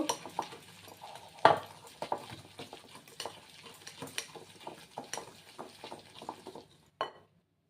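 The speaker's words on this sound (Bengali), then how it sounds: "আর গুঁড়ো করা 1 বাটি চিনি, এটাকে আমি কিছুক্ষণ ফেটিয়ে নেব" Powdered sugar being whisked by hand in a bowl for a vanilla Christmas cake batter, giving a run of uneven stirring and scraping clinks at close range, with a few sharper knocks against the bowl and no talking.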